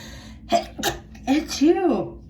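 A single sneeze close to the mic, a couple of short sharp intakes building to one explosive burst with a falling vocal tail, heard alone.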